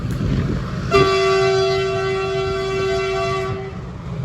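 A diesel freight train horn blares loudly for nearly three seconds over a low mechanical rumble, then cuts off, leaving the engine noise.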